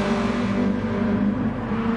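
Red Bull X2014 race car drifting around Autodrome Lago Maggiore in a racing video game, a steady, loud, buzzing engine drone that holds at high revs without a break.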